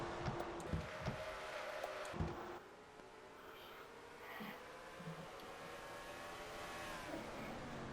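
Race car engines in a NASCAR-style racing video game at North Wilkesboro, with a steady mid-pitched engine drone and passing roars that surge near the start, then settle into a continuous hum.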